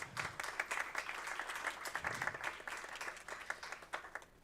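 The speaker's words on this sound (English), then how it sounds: "Can we give Romel a round of applause?" Faint, distant applause from the audience at a school board meeting, individual claps distinct in an uneven patter that continues throughout.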